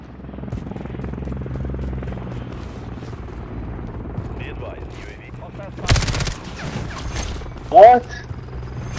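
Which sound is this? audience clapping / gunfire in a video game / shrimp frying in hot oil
gunfire in a video game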